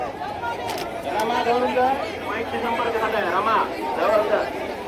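Pilgrims throng the Dnyaneshwar Mauli palkhi for darshan, their many overlapping voices forming a constant, busy crowd murmur with some nearer speakers standing out.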